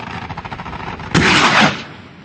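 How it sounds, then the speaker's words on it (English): Rockets and heavy gunfire during a street battle in Sirte, Libya: a rapid run of sharp shots gives way to a loud, sustained blast that roars for about half a second before fading. "both sides traded rockets and heavy gunfire"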